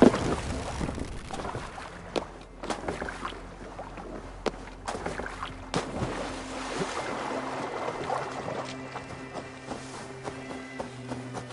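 A Viking longship sails across open water in Assassin's Creed Valhalla, with creaking timber, knocks and splashing wash over a low continuous rumble of waves, plus scattered thuds, moderately close.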